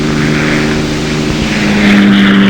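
A single-engine P-51 Mustang propeller fighter droning steadily nearby, a constant low engine hum with harmonic bands that swells slightly louder toward the end, no voices.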